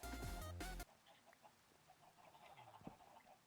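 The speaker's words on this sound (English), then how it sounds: "Chicken." A chicken clucking in the video game Minecraft, a few short soft clucks heard faintly and sparsely after a brief loud burst of tonal game sound at the start.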